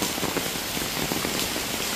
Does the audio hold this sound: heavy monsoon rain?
yes